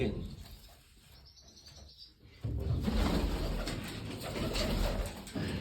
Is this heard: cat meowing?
no